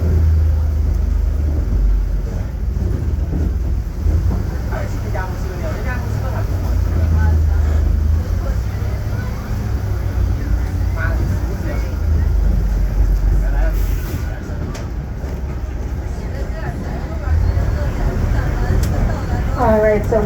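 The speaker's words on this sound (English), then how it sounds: "this is our kangaroo bus" A San Diego Zoo kangaroo tour bus drives along, its engine rumbling low and steady throughout with rising and falling drive noise, while a guide talks over it.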